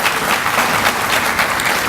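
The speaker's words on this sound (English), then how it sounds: "Give him a round of applause again," Loud, dense round of audience applause for Chad at the INTEGRATE 2015 conference keynote, a continuous close crowd of hands clapping with no gaps.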